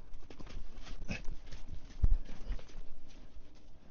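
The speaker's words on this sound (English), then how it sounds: "Look how I stopped my horse." A horse's hooves clip-clop at close range and slow to a halt, with a few heavier thumps as it stops amid outdoor background noise.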